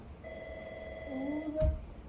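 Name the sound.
telephone ringing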